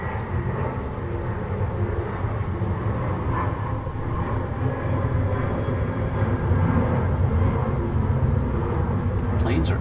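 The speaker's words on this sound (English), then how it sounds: "Planes are active today." Airplanes flying overhead make a steady, broad engine roar that stays loud for the whole stretch and swells gradually toward the end. A voice can be heard faintly under the drone.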